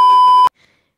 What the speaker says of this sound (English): I gotta get a beep sound effect